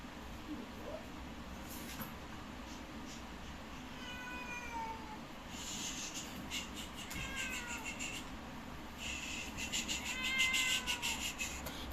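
A cat meows several times, high drawn-out cries spread across the stretch, heard against steady outdoor background noise with faint rustling and no talking.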